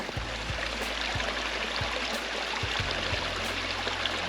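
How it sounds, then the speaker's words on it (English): A steady babble of running water from a small brook beside a trail at West Hawk Lake, continuous and fairly close, with no voices. "A babbling brook."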